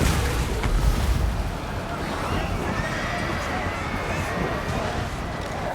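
A horse neighs in a Total War Warhammer battle, the whinny rising briefly out of a dense, continuous din of battle noise and distant clatter, with a voice faintly present.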